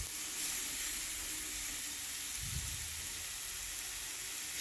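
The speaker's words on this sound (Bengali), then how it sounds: "তো মশলাটা দিয়ে ভালো করে কষিয়ে নেব।" A ginger, garlic and green chilli paste frying in a pan makes a soft, steady sizzle and hiss, fairly faint, with a brief low thump midway and no voices.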